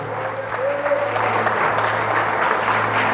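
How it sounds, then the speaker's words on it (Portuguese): Church congregation applauding a preacher's sermon, steady broadband clapping from the audience for about three seconds, with a low sustained hum beneath. "Pode aplaudir."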